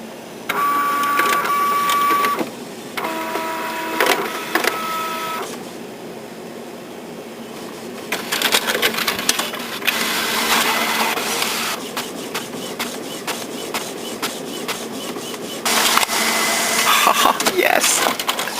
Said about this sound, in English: Okay, let's print.